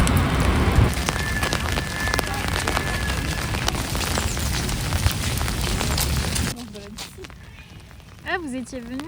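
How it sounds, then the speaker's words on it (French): Steady rain patters and hisses on a Paris street surface, then quiets abruptly, leaving faint dripping and a few chirping sounds. "Je vous laisse avec quelques images de Paris sous la pluie."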